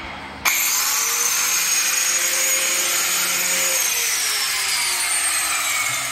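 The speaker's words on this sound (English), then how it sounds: "Grinding off the subframe mounting bolts." An angle grinder cuts through the subframe mounting bolts on a Mitsubishi 3000GT, a loud, continuous metallic screech that starts abruptly and holds steady close up.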